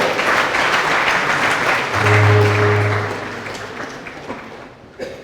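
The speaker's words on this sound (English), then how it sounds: "Please clap for them." Audience applause at a Jomo Kenyatta University student association inauguration ceremony, a dense, sustained clapping from a crowd that gradually thins out, with a brief low electronic hum partway through.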